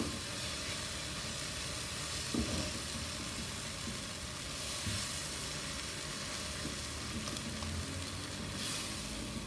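Brinjal bharta with onion-tomato masala roasting in a pan, a steady broad sizzle and frying hiss running throughout with occasional soft stirring scrapes, close and continuous.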